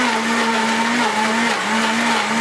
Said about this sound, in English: Now I'm going to blend it.